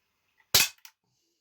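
A Hellboy M4 carbine CO2 airgun in 4.5mm fires a single sharp, close crack at a paper target, followed by a faint brief tick in otherwise near silence.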